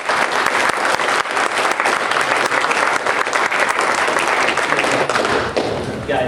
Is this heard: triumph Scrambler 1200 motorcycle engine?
no